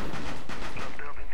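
Gunfire in the tactical shooter Rainbow Six Siege, a burst of rapid shots cracking close by in quick succession, with a player's voice talking over the action.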